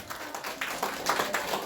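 Diffuse, fairly faint applause from an audience at a Korean election campaign event for a Namyangju Gap candidate, a steady patter of many hands lasting under two seconds.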